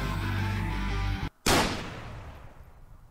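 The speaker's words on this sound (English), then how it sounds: "Gunshot." A single loud gunshot rings out in The Cat Lady game intro, a sudden blast after a brief silent gap, decaying into a long fading rumble over a droning music bed.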